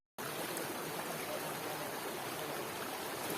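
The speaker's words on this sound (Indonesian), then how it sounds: "Jadi kita baru nyampe ke aliran sungai ya, masih belum masuk ke Gunung Manapanya." A river stream flows on a mountain trek toward Gunung Manapa, a steady broadband rush of water that starts abruptly and continues without pause, with no one talking.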